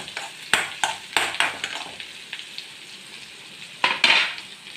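Onions and curry leaves fry in a pan while being stirred, with repeated clattering scrapes of a utensil against the pan over a steady sizzle and a louder burst near the end; no talking.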